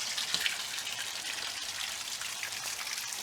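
Water draining out of a skiff during salmon-season boat prep in Alaska, a quiet continuous trickle and splash with small drips, steady and fairly faint throughout.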